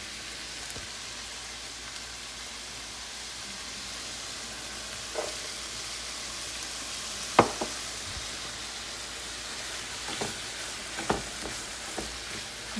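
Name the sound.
garlic and onion sautéing with meat in a pan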